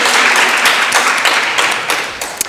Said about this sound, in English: So if you can give her a round of applause.